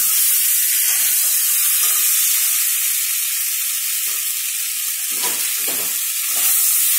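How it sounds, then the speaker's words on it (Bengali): Potatoes stir-fried in spiced oil in a pan for alur dum, giving a loud, constant bright sizzle with occasional soft scraping stirs underneath. "এবার আমি আলুগুলো দিয়ে দেবো। এবার আমি খানিকক্ষণ কষে নেবো এরকম করে।"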